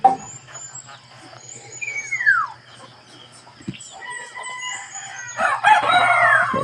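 A rooster crows nearby while hens cluck and chatter around it, with a second crow near the end.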